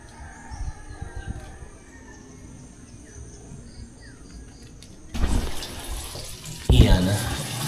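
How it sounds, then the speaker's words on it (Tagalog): Tap water runs into a sink during dishwashing, a soft steady wash at first that swells into louder, closer splashing and clatter toward the end, with a rooster faintly crowing somewhere in the background. "Hugasan natin ang mga pinagkainan."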